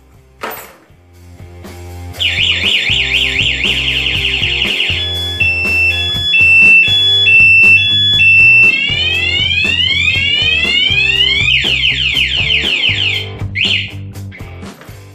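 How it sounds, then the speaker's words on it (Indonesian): A motorcycle security alarm blares loud and close, cycling through a sequence of electronic tones: steady beeps, warbling chirps and rising sweeping whoops, repeating over about fifteen seconds with a rhythmic low pulse underneath. "Dan juga sebagai pemicu suara alarm jika motor dibobol melalui"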